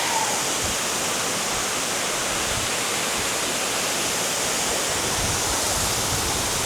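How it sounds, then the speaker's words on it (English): A continuous roaring rush of falling water at Tiffany Falls in Hamilton, Ontario, loud and steady without pause, like standing close to the waterfall. "here's Tiffany Falls."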